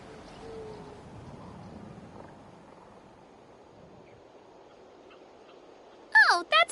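A cuckoo soar bird in Genshin Impact gives a brief, loud, sharp call near the end, after several seconds of near silence with only a faint low murmur.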